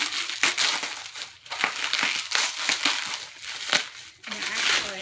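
Packing paper crinkles and crushes steadily as a well-wrapped red mason jar is unwrapped, close and continuous, with a faint glassy clink.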